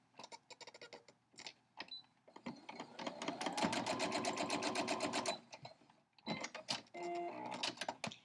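Sewing machine stitching quilt block pieces for a 6.5 inch crumb block, running in steady bursts with a long continuous whir in the middle, close and fairly loud, with brief handling noises between runs.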